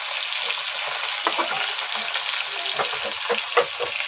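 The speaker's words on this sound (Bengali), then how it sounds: "এদিকে একদিকে মাছ ভাজা হয়ে গেছে" Fish fries in hot oil in a pan, a loud continuous close sizzle with scattered crackling spits and small pops throughout, no voices.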